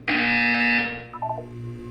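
A loud electronic buzzer in the Portal 2 video game sounds once, a harsh sustained tone that cuts off after under a second, followed by fainter descending electronic beeps.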